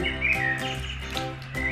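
Electronic chirping birdsong from a small toy sound book speaker, bright repeated tweets over a tinny musical drone.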